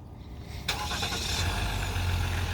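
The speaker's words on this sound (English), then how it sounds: "You got remote start." A 2019 Ram 1500 Laramie EcoDiesel crew-cab truck engine cranks over by remote start with a sudden burst, then settles into a steady, low diesel idle, heard alone at close range.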